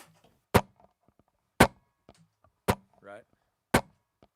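Hollow, wood-block-like percussion hits from a sample layered on a live looper, four sharp strikes spaced about a second apart in a steady rhythm, close and clean, with a brief pitched blip between the third and fourth.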